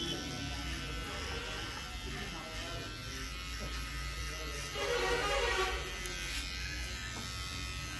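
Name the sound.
electric hair clippers cutting hair for a medium fade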